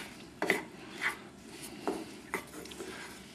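Quinoa filling for stuffed baby peppers is stirred in a bowl, giving a few separate scraping, clinking strokes of the utensil against the dish. The strokes come at an irregular pace over a quiet background.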